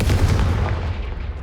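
A single Confringo fire spell blast from the Hogwarts Legacy video game, a punchy low boom with a crackling burst that fades out over about a second and a half.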